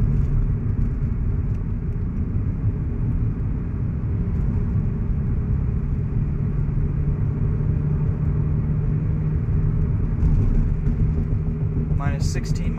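Subaru BRZ engine cruising at about 2300 RPM in fifth gear on E85 fuel, a steady low droning hum with constant road rumble from inside the car, unchanging throughout.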